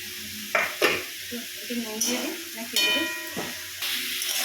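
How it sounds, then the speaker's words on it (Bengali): Onion, capsicum and green chillies fry in a pan with salt during chicken pasta cooking, giving a steady close sizzle broken by several sharp scrapes and clatters of a spoon stirring against the pan. "পেঁয়াজ, ক্যাপসিকাম, কাঁচা লঙ্কা দেওয়া হলো। এটা এবারে ভাজা হবে"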